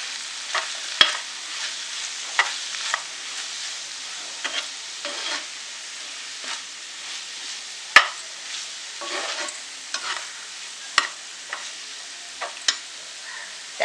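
Vegetables for a Maharashtrian pea and potato bhaji sauté with coriander and salt, crackling steadily in the pan as a spoon scrapes and taps in irregular strokes.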